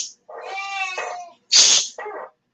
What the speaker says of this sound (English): the cat meowed big time